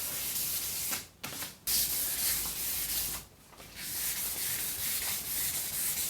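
Sanding a steel and timber dining table makes a close, loud, continuous abrasive rasp, broken by a few brief pauses between strokes, with no talking.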